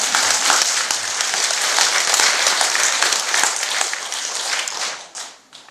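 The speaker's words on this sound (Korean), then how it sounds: "그런 박수를 한번 쳐줘야 돼요, 스님들." Audience applause for monks at a Saturday Buddhist temple service, a dense sustained wash of many hands clapping that fills the room, then fades out over the last second.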